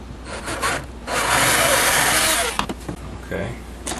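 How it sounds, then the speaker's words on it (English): A drill bit boring into a piece of wood, a loud grinding whir that runs for about a second and a half before cutting off, followed by short scraping bursts as people talk nearby. "We're just centering our drill bit in the middle of that hole as close as we can and trying to stay perpendicular with that piece of wood."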